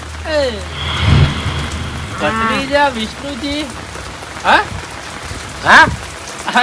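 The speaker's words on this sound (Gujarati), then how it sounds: "વરસાદ વધે છે" Rain drums steadily on a surface while a few people speak in short bursts over it, the downpour constant and close.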